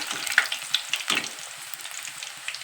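Sweet potato chips fry in very hot oil, a crackling sizzle with sharp pops and spits, close and fairly loud, with no voices.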